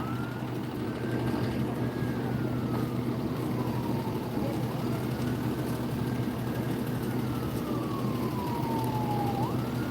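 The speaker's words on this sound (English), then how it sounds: "They're still running some kind of sirens here," An emergency siren wails in long rising and falling sweeps, moderately distant, at a police pursuit crash scene in Ramsey County, over a steady low engine rumble.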